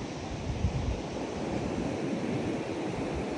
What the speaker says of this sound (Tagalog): Ang ganda ng alon niya.